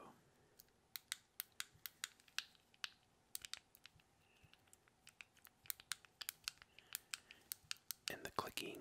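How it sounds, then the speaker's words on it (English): Buttons on a plastic stress cube click in quick, uneven bursts, close and crisp, with a denser flurry of clicks at the end and no talking. "And the clicking is kind of loud on the buttons, so I'll keep it far from the microphone."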